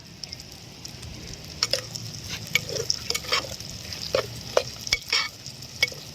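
Whole spices tossed into hot oil in a village pork cooking setting, sizzling and crackling steadily while a utensil scrapes and stirs the pan in irregular close bursts.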